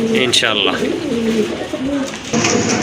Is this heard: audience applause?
no